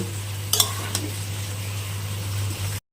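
Cauliflower stalks cooking with tomato, green chilli, salt, turmeric and sugar are stirred in a pan: a couple of sharp spatula scrapes and clinks over a low, steady sizzle and a constant hum.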